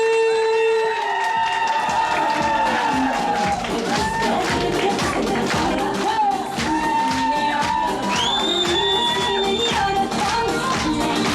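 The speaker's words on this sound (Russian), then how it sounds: "бурные аплодисменты, стоя встречаем семью Ильдара и Ельвины Джураевой" Wedding guests applaud and cheer to welcome newlyweds at a cafe reception, dense clapping with crowd noise and music running throughout, loud and continuous, with voices mixed in.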